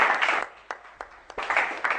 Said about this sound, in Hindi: जोरदार तालियों के साथ स्पीकर साहब का शुक्रिया अदा करें